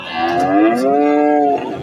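One loud, drawn-out moo from a native desi-breed bull at a cattle market, close and clear, with nothing else around it.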